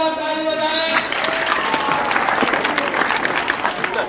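Loud applause fills a school hall after the final round of a quiz competition, opening over a brief fading tone and then settling into dense, sustained clapping from a large audience.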